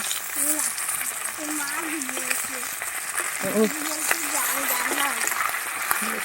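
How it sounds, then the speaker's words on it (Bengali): Fish frying in a hot pan gives a steady broadband sizzle that runs throughout, with voices talking over it. "কড়া করে ভাজবো কড়া করে আর মাছ ভাজি"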